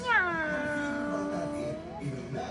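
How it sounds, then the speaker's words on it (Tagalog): Cats give a drawn-out, wavering meow up close, one long tonal cry followed by a shorter call, with faint background noise. "Napakakulit na magagandang pusa na yan."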